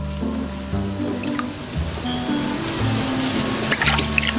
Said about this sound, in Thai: พี่แสบอาบน้ำเร็วๆ